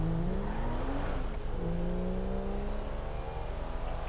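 A car accelerates hard in GTA 5 at around 125, its engine revving through rising gear sweeps with a brief shift drop midway, loud and continuous with no talk.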